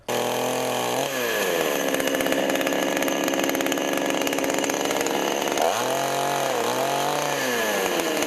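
A chainsaw cuts into a poachers' wooden watchtower in the forest, the engine droning loud and close and dipping in pitch twice as the chain bites into the wood.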